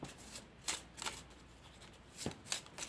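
Tarot cards are drawn and shuffled in a few soft, quick riffling bursts, close and quiet against a hushed room.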